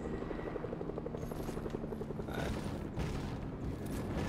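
Helicopter hovering close by in the video game Fortnite, a steady chopping rotor thrum with mechanical whine, continuous and fairly loud with no voices.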